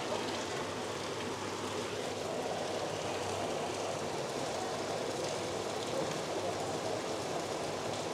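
Steady rain pours down in Gjirokaster, Albania, a dense, even hiss of drops striking a surface, continuous and fairly close with no breaks.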